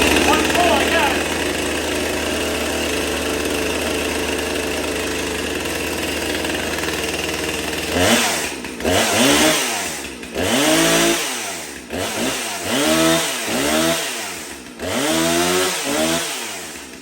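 A Husqvarna chainsaw, not run for months, fires up after a single pull with its chain brake on, then roars and revs in repeated loud bursts up and down, close by, with no talking.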